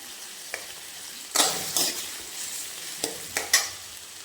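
Onion and tomato frying in hot oil in a pan, soft sizzle with several sharp scraping stirs of a spoon, fairly quiet and close.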